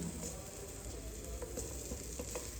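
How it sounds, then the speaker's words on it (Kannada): Potato pieces frying gently in a small amount of oil in a pan, a steady soft sizzle with faint crackles and light stirring taps, close and even throughout. "ಆಲೂಗೆಡ್ಡೆನ ಲೈಟಾಗಿ ಫ್ರೈ ಮಾಡಿ ಹಾಕ್ತೀನಿ"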